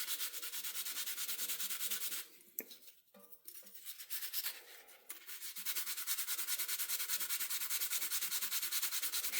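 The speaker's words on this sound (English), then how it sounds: "Put it on my little scrubber. And we'll just give this a little bit of a scrub." Steady scrubbing of a circuit board with an alcohol-soaked scrubber, a close, even rasping rub that pauses briefly partway through, then resumes.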